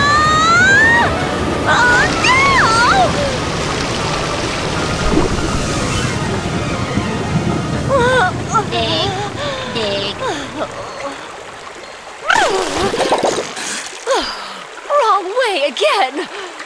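Cartoon water gushes and splashes up from a freshly dug hole, loud and sloshing, while animated characters shout and talk excitedly over and between the bursts.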